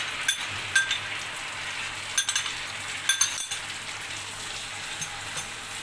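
Garlic and ground chili paste sautéed in a pan for a spicy red chutney served with chicken momos, a soft continuous sizzle punctuated by a few light metallic clinks of a spoon against the pan, close up with no talking.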